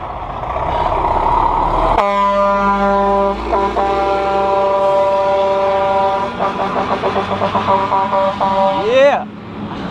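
A big dump truck blasts a long, loud horn from close by on the road, holding a steady, deep multi-tone honk for several seconds over heavy engine rumble before it cuts off.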